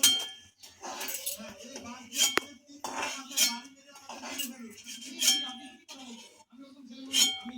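Fried boondi lifted out of a frying pan with a metal slotted spoon, giving repeated close clinks and scrapes against the pan while a person talks throughout.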